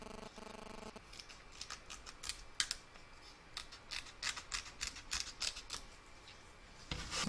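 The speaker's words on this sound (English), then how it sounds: "I'm just going to trim down a little bit here so that it's not overlapping the arm." Scissors trim fabric for a dress-up doll in a series of crisp, close snips, some quick and clustered and others spaced apart, with no other sound.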